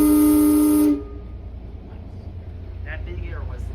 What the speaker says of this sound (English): That big air whistle up there.